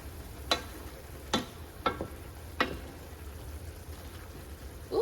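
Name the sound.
stirring mushroom chicken alfredo cooking in a pan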